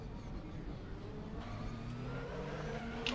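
A race car engine in the RaceRoom driving game drones steadily, with pitch shifts as the car brakes and gears change, at moderate loudness with no voices.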